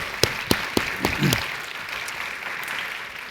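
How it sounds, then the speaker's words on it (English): A university plenary audience claps for sign language interpreters, opening with a few sharp, separate claps that quickly blend into a soft, steady patter of applause from a seated crowd. "Let's give them a round of applause"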